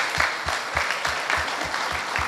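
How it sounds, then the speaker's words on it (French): Rhythmic, synchronized clapping from an audience at a debate competition final, a steady beat of claps in unison at moderate distance. "Vous applaudissez s'il vous plaît, Madame Laraqi."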